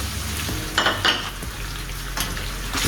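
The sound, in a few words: stirring tomatoes in a frying pan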